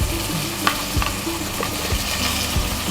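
Coriander, mint and curry leaves fry in a hot pan for egg omelet biryani, a steady loud sizzle with a few sharper crackles and spatula scrapes, no voices.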